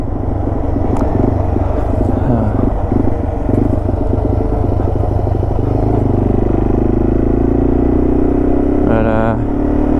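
Yamaha TW200 motorcycle riding on a Colorado trail, its engine a loud, steady, close mid-pitched thrum with rhythmic clatter, shifting to a smoother drone partway through and a brief rising whine near the end.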